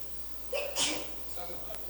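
A single sneeze bursts out near the middle of a spoken sermon on a Bible passage, sharp and fairly close, with a soft breathy intake just before it.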